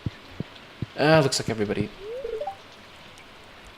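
Rain falls in the Stardew Valley video game as a soft, constant hiss with sparse drop ticks, while a voice talks over it for a moment in the middle.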